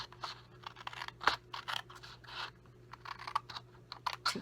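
Scissors snip through paper while a stationery box is cut to shape, giving a string of small, close, crisp cuts in an irregular rhythm in an otherwise quiet room.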